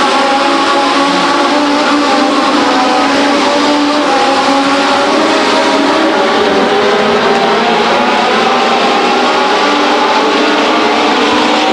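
Legends race cars at Stockton 99 Speedway roar in a dense, loud pack at full throttle, a steady high-pitched engine drone with no pauses throughout.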